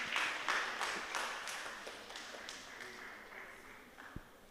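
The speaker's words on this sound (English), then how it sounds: "Give them a big round of applause, please." Applause from an audience at a primary-school math contest semi-final, loud at first with a few sharp claps standing out, then gradually fading and thinning toward the end.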